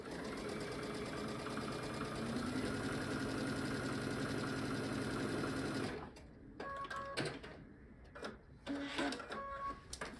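A sewing machine runs steadily for about six seconds while stitching quilt four-patch blocks, its fast even motor whir close and loud, then it stops and gives way to quieter handling noises and short sparse bursts.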